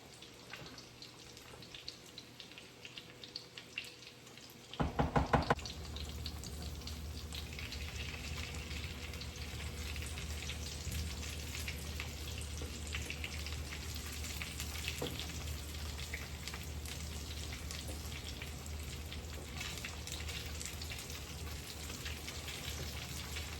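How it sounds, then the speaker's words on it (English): A pan of green beans in butter bursts into a loud sizzle after a few quiet seconds, then bubbles and crackles steadily as it boils, close up and with no talking. "we're gonna boil these up until all that liquid is gone"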